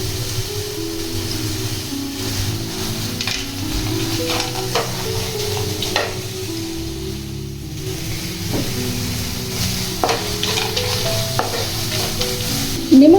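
Almonds and cashews are stirred into watermelon rind halwa in a pan, a steady sizzle and frying hiss under repeated scraping stirs of a spoon, close up, ending with a brief metallic clink.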